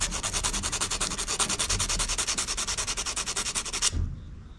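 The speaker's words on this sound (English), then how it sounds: "And I put a burr on it right there. We gotta sand that down." A burr on a Craftsman DLT3000 riding mower valve cover is sanded down with fast, steady back-and-forth rubbing strokes, loud and close. The strokes stop abruptly near the end.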